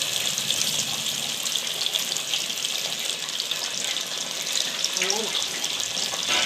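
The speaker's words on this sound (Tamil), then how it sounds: "ஆஹா மீன் பொரியுது, ஃப்ரை ஆகுது." Fish frying in hot oil gives a steady, close sizzling hiss that runs without a break, with no voices over it.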